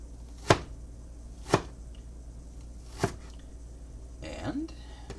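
A knife slices shallots into fairly thick rings on a board, giving three crisp, well-spaced chops against a quiet background, followed by a brief faint voice near the end.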